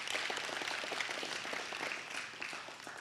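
An audience claps in appreciation for a volunteer teacher, a fairly faint spread of scattered hand claps that stays steady and tapers slightly toward the end.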